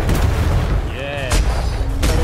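Broadside of ship cannons booming during a naval fight in the video game Atlas, with heavy low rumbling blasts throughout and a player talking over the fire.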